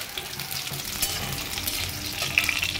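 Pieces of unripe jackfruit fry in a pan with a continuous, moderately loud sizzle and light stirring noises, and no one speaks.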